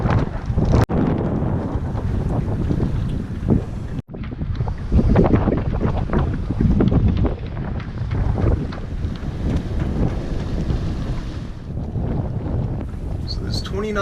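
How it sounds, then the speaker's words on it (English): Strong 20-knot wind buffets the microphone aboard a sailboat in a choppy harbor, a loud continuous rushing roar with gusts and water sloshing against the hull. "So there's 20 knots of wind."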